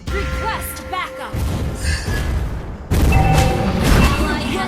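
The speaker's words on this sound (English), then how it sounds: "Your team destroyed the turret." Loud booming blasts and crashing effects as a turret is destroyed in the Mobile Legends: Bang Bang mobile game, over continuous dense battle noise with a louder surge partway through.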